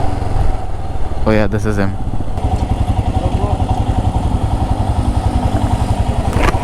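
A Royal Enfield Himalayan BS6 motorcycle thumps steadily nearby with a loud, rhythmic low engine pulse, while someone speaks briefly over it early on.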